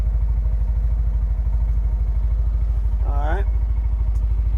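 A Tractor Supply budget UTV engine idles steadily, a loud, even low-pitched putter throughout; someone briefly speaks over it near the end.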